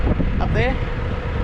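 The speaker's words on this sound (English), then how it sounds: "Sorry about the wind, it's pretty windy here at the moment." Strong outdoor wind buffeting the microphone on a dairy farm runoff during fencing, a loud continuous low rumble with a brief spoken remark over it.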